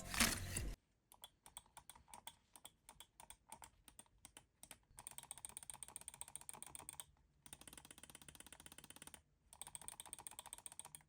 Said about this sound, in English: here's a quick sound test of the mouse buttons and the scroll wheel